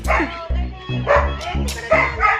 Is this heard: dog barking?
yes